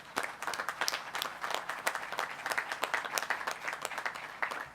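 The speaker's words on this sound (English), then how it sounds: "would you please join me in giving my NASSCO team a round of applause" A crowd applauds at the christening ceremony for the ship Bay State at the General Dynamics NASSCO shipyard. The clapping is steady and fairly close, a dense patter of many hands that carries on evenly with no one speaking over it.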